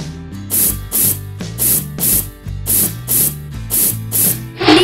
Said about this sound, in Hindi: इसे स्प्रे बोतल में भरकर हेयर टोनर की तरह इस्तेमाल में लाएं